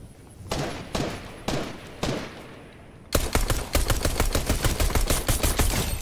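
Pop gun shots in the Fortnite video game, first a few spaced single cracks, then a fast, loud, continuous volley of rapid pops with no talk over it.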